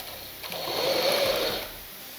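A sewing machine runs in one steady burst, stitching a curved seam through two pieces of blouse fabric and lining, its motor whirring up and then easing off, heard alone and close.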